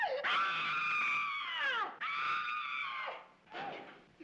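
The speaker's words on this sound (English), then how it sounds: "I hear somebody scream?" A woman's high, piercing screams ring out in three long, wavering bursts, each rising then sliding down, loud and close against a quiet background in an old black-and-white mystery film.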